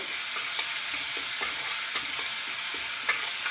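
Ginger garlic paste sizzles steadily in a hot pan over a medium-low flame while being mixed for jeera rice, with soft intermittent scrapes and clinks of the stirring spoon over a constant frying hiss.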